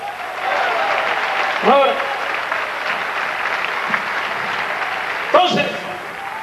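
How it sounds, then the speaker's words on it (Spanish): Applause from a church congregation fills the space steadily throughout, with two brief spoken interjections rising over the clapping. "Den un aplauso al maestro."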